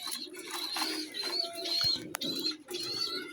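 Pet flying pigeons coo softly and repeatedly at close range, a low throaty cooing against faint background chirps and rustling.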